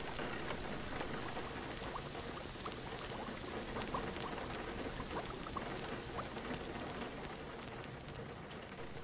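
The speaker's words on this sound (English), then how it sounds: "The rain was so gently kicking on my window." Steady rain patters densely and evenly against a surface, a soft continuous hiss with scattered drop taps throughout.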